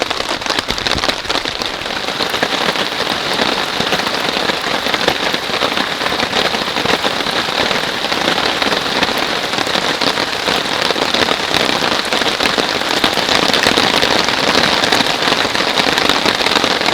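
Heavy rain drums steadily on a tent through a storm with high winds, a loud, dense, continuous patter with no talking.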